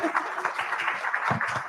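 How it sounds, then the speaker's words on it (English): A conference audience applauds with dense, continuous clapping, mixed with some voices in the room. "Please give her a round of applause."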